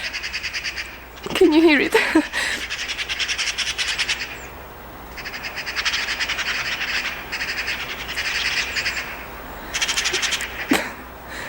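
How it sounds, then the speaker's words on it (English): Birds singing outdoors, with repeated bright chirps and trills in several bursts across the clip, partly under a brief spoken question. "Okay, birds."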